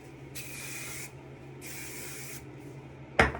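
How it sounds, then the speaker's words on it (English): Two sustained hissing bursts from a hairspray can, each about a second long with a pause between, followed by a sharp clatter at the end. "You're gonna spray like any hairspray you want in it."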